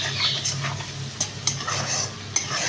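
Spiced lentil masala stirred in a pan, with a steady sizzle beneath repeated scraping strokes of a utensil against the pan and a few sharper clinks, all close and fairly loud.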